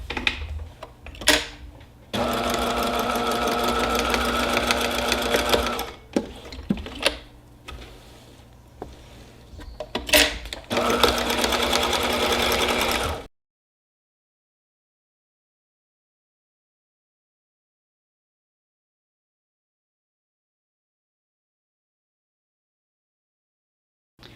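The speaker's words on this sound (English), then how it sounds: "Now let's sew it." A sewing machine stitching a fabric hot pad runs in several close mechanical bursts with brief pauses between them, then stops, leaving a long silence.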